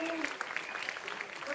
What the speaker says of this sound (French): Félicitations, on peut les applaudir,